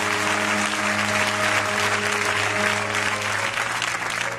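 A church congregation applauds and cheers during a French-language sermon, a steady dense wash of clapping and crowd noise sustained throughout, with a low background hum and no clear speech.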